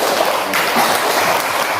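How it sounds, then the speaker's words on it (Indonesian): Pupils in a primary classroom clap for a classmate who answered a maths problem, a short dense patter of hand claps lasting under two seconds, close and steady. "kita berikan tepuk tangan untuk teman kita"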